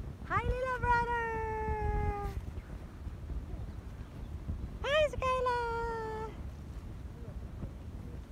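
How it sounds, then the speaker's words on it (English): A cat at a medieval centre on Bornholm, Denmark, gives two long, clear meows several seconds apart over light outdoor wind and background murmur. "Hi, little cat."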